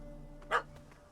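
A dog in The Witcher 3: The Wild Hunt gives one short, sharp bark over a steady low background hum.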